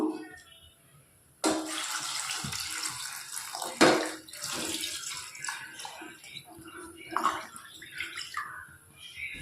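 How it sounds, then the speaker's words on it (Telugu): Water splashes and gurgles as it is poured into a pot of wilted lemons on a stove, a sudden start followed by uneven pouring and clatter, with faint voices in the background. "ఇవి మునిగేంత వరకు నీళ్ళు పోద్దాం"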